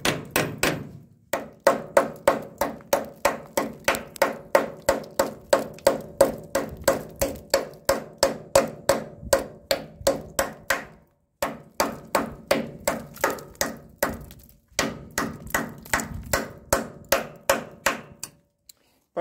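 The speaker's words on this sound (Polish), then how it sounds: "wziąłem sobie młotek, niczym rewidor taboru kolejowego, także postukamy sobie trochę" A hammer taps repeatedly on the worn coupling of an Ikarus bus, dozens of sharp metallic knocks in a steady quick rhythm, close and loud, with a few short pauses and no talk.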